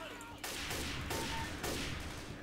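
Zombie-shooting gunfire in Left 4 Dead 2 comes as dense, rapid bursts of automatic weapons, loud and continuous with short gaps between volleys.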